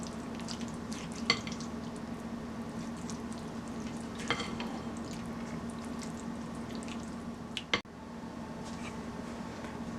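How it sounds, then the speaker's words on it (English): A spoon stirs papaya pie filling with sugar, cinnamon and melted butter, a soft, continuous wet mixing sound with a few small clinks against the bowl, quiet and close. "And I'm just going to stir that all together."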